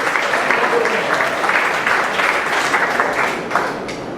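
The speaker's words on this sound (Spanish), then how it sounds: "Denle un fuerte aplauso a la gloria del Señor y a su nombre" A church congregation breaks into loud, sustained applause during a sermon, dense clapping filling the room steadily before easing off near the end.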